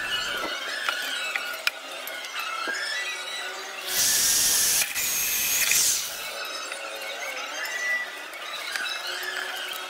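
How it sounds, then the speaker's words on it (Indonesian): A power drill with a 1/4-inch bit whines and chatters in bursts as it bores holes into PVC pipe, with a louder, higher-pitched stretch in the middle, close by. "kita lubangi titik lubang output dengan mata bor lubang berukuran 1/4 inci"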